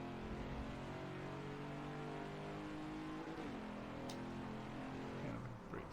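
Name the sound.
Ford Mach 1 engine accelerating on race track at Watkins Glen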